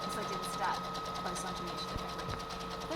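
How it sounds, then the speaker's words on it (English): A sewing machine buzzes steadily at close range while zigzag stitching along the fabric edges of a cloth face mask, with a voice speaking over it. "Then I like to zigzag the edges so that I don't get any fraying come through the seams."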